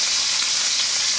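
Garlic sizzles in butter in a cast iron skillet alongside a ribeye steak, giving a steady, close, bright hiss with no pauses or talk over the brief moment.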